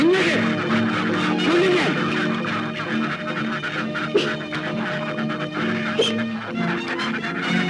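A duck quacks a few times in a Malayalam film scene, short nasal calls set against background music and ambient noise.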